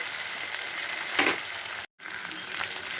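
Cumin and radhuni paste frying in a pan for Bengali sukto, a steady soft sizzle with one brief louder hiss midway, alone with no talk.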